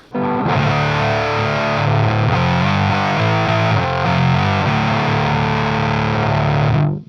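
Joyo Voodoo Octave Fuzz pedal with the tone knob at 12 o'clock, driving an electric guitar into a loud, dense, saturated fuzz as chords ring out continuously for several seconds with no voices.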